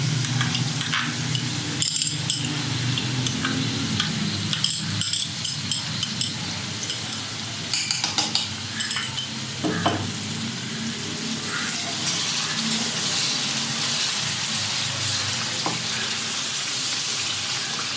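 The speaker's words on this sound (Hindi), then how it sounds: "अब ये मसाला ज़रा अच्छी तरह से भुन जाता है ना" Masala for a fish head curry with potatoes fries in a pan, a loud steady sizzle running throughout with intermittent stirring scrapes and clinks up close, no voices.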